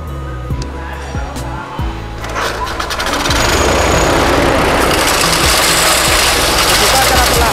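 A hammer mill with a suction blower and cyclone starts up. Clicks and a low motor hum build into a loud, steady roaring whir that holds after about three seconds.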